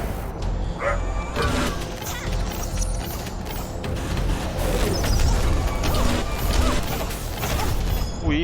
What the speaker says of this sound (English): The Bergson understood the guard dogs needed to be put down